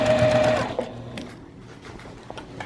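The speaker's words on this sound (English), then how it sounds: "I'm going to do a back stitch here, and I'm just going to sew around my bag." Sewing machine stitching around a canvas tote bag, a brief close whirring run that stops within a second, leaving soft handling noises.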